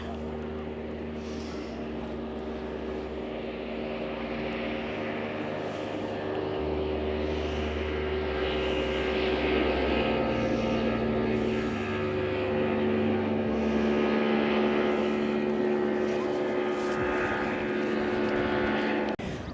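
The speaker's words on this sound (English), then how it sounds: "here comes a boat" A motorboat engine drones steadily and grows a little louder as it passes on the Barwon River mouth at Barwon Heads, Australia, a low continuous hum with a broad wash of background noise.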